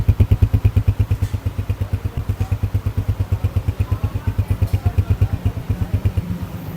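A Honda CG 125 motorcycle engine idling nearby at about 1000 rpm with a steady, even low putter, its rhythmic pulses continuing evenly without talk or knocking.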